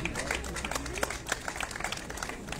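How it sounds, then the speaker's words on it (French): Applause from an audience at a results ceremony for a Christmas lights and nativity scene contest and prize draw, a steady patter of many hands clapping for a couple of seconds, fairly close and alone without talk. "on peut l'applaudir"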